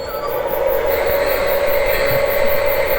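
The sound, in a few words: Lionel Polar Express model train running on the layout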